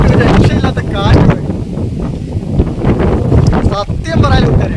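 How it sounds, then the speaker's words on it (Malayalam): Strong wind buffets the microphone in loud, continuous gusts at an open seaside spot, with a person talking over the roar throughout. "അതിയായ കാറ്റ്, ഒരു രക്ഷയില്ലാത്ത കാറ്റ്"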